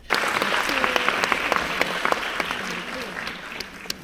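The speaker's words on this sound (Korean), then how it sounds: "영화 상영 다 하고 엔딩 크레딧 올라갈 쯤에 이렇게 다 같이 박수를 칩니다" A festival cinema audience at the Busan International Film Festival claps together as the end credits roll, a sustained wash of many hands at close range with faint murmuring voices underneath.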